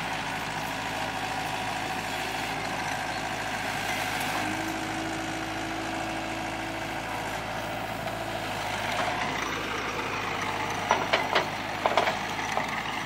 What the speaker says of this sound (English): Got the inmates out here grinding on the mowers, doing some lawn care.